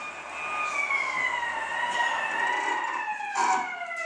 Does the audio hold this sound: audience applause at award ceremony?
no